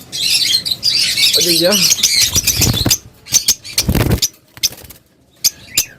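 Caged birds squawk and chirp in bursts at a bird market stall, loud and near, with someone talking over the calls and sharp isolated squawks continuing afterward.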